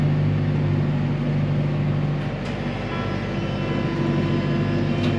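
A tractor-driven straw bedder on a cattle farm runs steadily near and loud, a continuous engine and blower roar with a low droning hum as straw is blown out for the cows.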